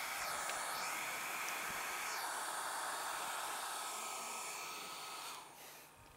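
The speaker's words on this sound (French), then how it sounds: "par inadvertance, j'allume mon sèche-cheveux." A hair dryer whirs steadily with a broad, airy roar, holding constant before dropping slightly in pitch and level near the end.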